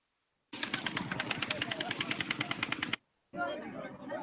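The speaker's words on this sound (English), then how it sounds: "there was some firing that was coming from a distance" Rapid bursts of distant automatic gunfire in Las Vegas, a fast steady rattle of shots lasting a couple of seconds, then a short gap and more noisy firing.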